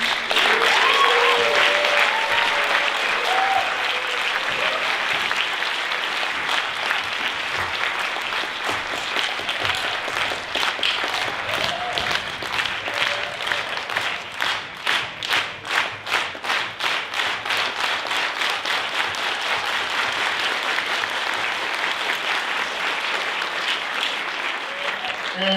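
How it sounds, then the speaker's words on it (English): A room of attendees at a panel forum on the red-state teacher strikes applauds its guest speakers: dense, steady clapping that holds for about twenty-five seconds and thins slightly toward the end, with no speech over it. "a round of applause for our guests"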